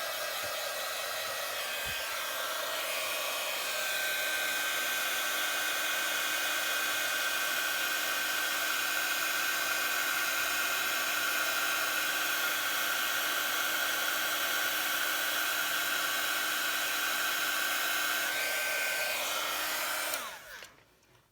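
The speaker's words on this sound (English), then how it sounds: "So then we're just going to get the heat tool and give that a blast." A heat tool blasts hot air over a handmade card with foil decoration, a loud steady whooshing roar with a whining tone that holds for about twenty seconds, then cuts off and winds down at the end.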